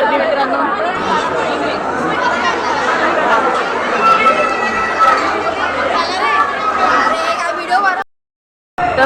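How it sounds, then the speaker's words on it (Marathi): A dense crowd chatters at the Shegaon temple, with a steady, close wash of many overlapping voices and scattered laughter that cuts off abruptly near the end. "बघू शकता तुम्ही किती गर्दी इथे"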